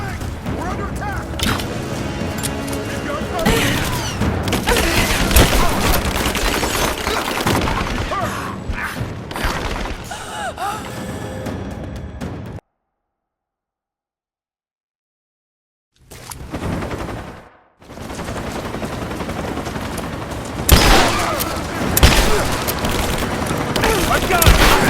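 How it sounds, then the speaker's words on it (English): Heavy automatic gunfire and booms fill a firefight in the video game Rise of the Tomb Raider, dense and loud, broken by a few seconds of total silence before the shooting resumes. "I'm taking fire! Getting torn apart!"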